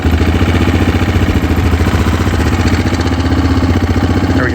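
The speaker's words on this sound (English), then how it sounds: "so this is going to be a cold start, even though it's not that cold out, but let's see how it does here." Husqvarna 701 Supermoto single-cylinder motorcycle engine idling steadily after a cold start, a close, loud, even thrum with a fast low pulse and light mechanical clatter, no talk over it.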